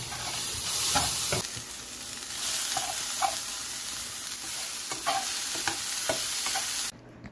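Creatine and pre-workout powder being stirred into a drink, with a steady close swishing and a few light taps of the utensil against the container, continuing for several seconds before stopping abruptly.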